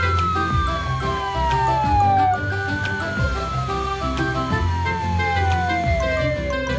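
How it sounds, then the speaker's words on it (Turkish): A police siren wails with rising and falling tones, loud and continuous, over a busy mix of vehicle noise. "sireni ve siren lambasını açıp hemen olay yerine gidiyor."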